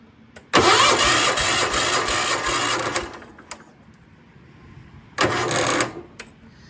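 A John Deere garden tractor's small engine is cranked with a little throttle, giving a loud whirring burst of about two and a half seconds, a pause with a faint tick, then a second shorter cranking burst.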